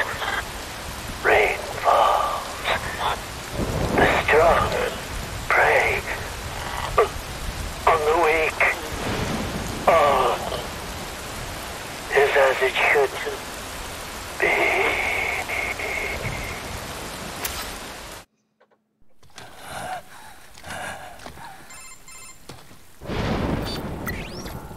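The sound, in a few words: rain and thunder in the video game Metal Gear Rising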